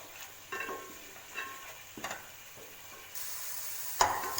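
Coriander rice masala cooking in oil in a pan at home, giving a steady close sizzle broken by several soft scraping stirs, with the frying growing louder and brighter toward the end.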